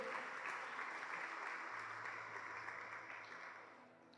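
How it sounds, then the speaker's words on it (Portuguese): A church congregation applauds for Jesus during a sermon, a dense, steady wash of clapping that fades toward the end. "Vamos aplaudir Jesus então?"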